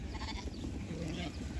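Big flock of sheep with goats being moved on a farm, scattered faint bleats within a steady rustling din, while a man calls out to the animals.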